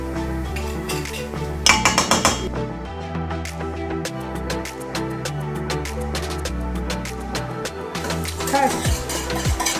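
A utensil stirs baking soda into hot water in a pot, making repeated clinks and scraping taps against the sides in an irregular rhythm, up close and fairly quiet.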